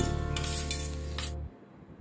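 Boiled, mashed potatoes being stirred into a curry in a pan, a steady close scraping and sizzling with a few clinks of the spoon, cutting off sharply near the end.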